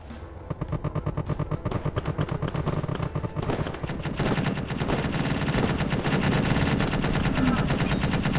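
Autocannon fire in a video game pounds out in rapid, sustained bursts that are loud and relentless. Its rattling thumps run together into a dense roar toward the end.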